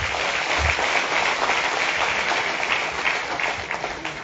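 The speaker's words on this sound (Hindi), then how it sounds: "आप सबके धैर्य के लिए आप लोग अपने आप के लिए एक जोरदार ताली जरूर बजाएं" Audience of delegates at an event in India clapping together, a dense, steady round of applause that stays loud throughout the short stretch without speech.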